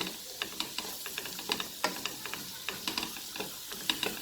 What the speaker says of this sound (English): so that's just onion cooking up. It's on medium heat